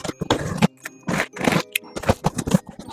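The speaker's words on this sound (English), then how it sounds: "let's unwrap it and see how it looks" A packaged Home Depot Halloween decoration with a pop-up mechanism being unwrapped, with close, loud crinkly plastic scrapes and rustles in short irregular bursts, heard alone.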